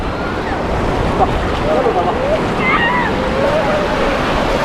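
Ocean surf rolls in on a Cape Town beach as a loud, constant wash of waves and wind rumble, with faint distant voices and calls over it.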